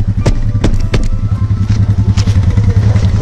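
A Royal Enfield Himalayan motorcycle idles close by in snow and sleet in Spiti: a steady, loud, low thumping engine with a few sharp clicks and clatters from handling, no one speaking.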